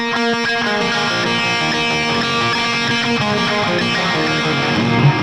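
An overdriven electric guitar plays a song intro with delay left on, its repeating notes smearing into a dense, loud, continuous wash of echoes.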